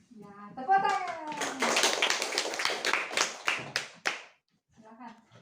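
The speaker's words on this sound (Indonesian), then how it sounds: "Ya, tepuk tangan." Children in a classroom clap in quick bursts of sharp, close claps under a teacher's cheerful chant, ending abruptly before a short pause and more talk.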